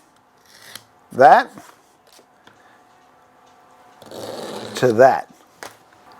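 Wood veneer being cut in two passes, heard as two short rasping strokes a few seconds apart, the second longer, with brief speech in between.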